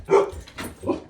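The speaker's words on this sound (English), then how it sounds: "Dog is barking." A dog barks three short times in quick succession, fairly close and distinct, with nothing else around the barks.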